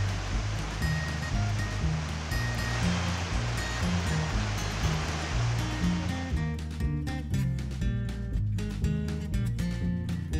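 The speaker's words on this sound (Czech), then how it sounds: "Nezbývá nám, než přebrodit potok a zkusit to na druhé straně." A rushing Alaskan wilderness stream flows loudly and continuously around someone wading across it, with broadband splashing and gurgling that turns choppier and more broken toward the end.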